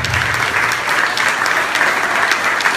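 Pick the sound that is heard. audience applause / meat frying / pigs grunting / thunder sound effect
audience applause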